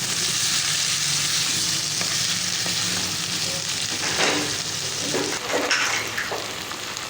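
Pasta sauce with ketchup and vinegar being stirred and fried in a pan, giving a steady close sizzle throughout with soft scraping stir sounds rising near the end.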